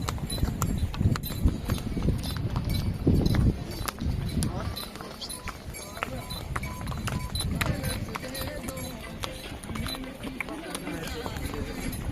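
Horses' hooves clip-clop at a steady trot on the Amarnath Yatra mountain trail, fairly close, mixed with outdoor ambience and voices talking nearby.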